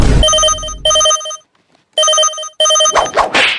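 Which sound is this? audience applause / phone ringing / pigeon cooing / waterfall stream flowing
phone ringing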